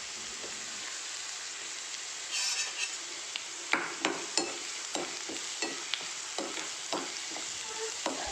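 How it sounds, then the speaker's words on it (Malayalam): Whole small red shallots dropped into hot oil with green chilli and curry leaves for a prawn shallot roast, giving a steady sizzle with a burst of spitting and repeated sharp clinks of a spoon stirring against the pan. "ഇനി നമ്മൾ ഇട്ട് കൊടുക്കാൻ പോകുന്ന ചുവന്നുള്ളിയാണ്."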